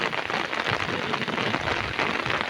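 Dense, steady heavy rain hisses without a break on a cassava farm, a broad wash of patter on surfaces, close and fairly loud with no voices.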